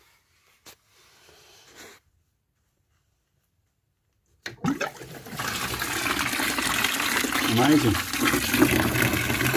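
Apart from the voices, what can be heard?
water flushed through a blocked central heating boiler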